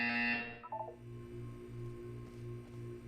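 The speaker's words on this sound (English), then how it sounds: "You will hear a buzzer." In Portal 2, a brief high electronic tone sounds first, then a loud, low buzzer pulses in a steady repeating on-off rhythm, alone with no voices.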